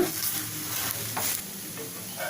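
A cucumber dosa roasting on a hot griddle gives off a loud, close, continuous sizzle with a few brief swells and crackles, no voices.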